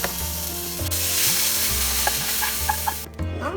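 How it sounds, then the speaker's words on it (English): Hot tadka of dry red chili and Kashmiri chili powder hits Maggi noodles with a loud, close, continuous sizzle, overlaid by scraping stirs and a few light clinks, with no talking. "Put the tarka into the noodles."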